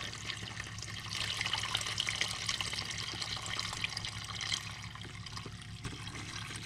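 Liquid is poured in a steady, close stream, splashing and gurgling continuously before it tapers off.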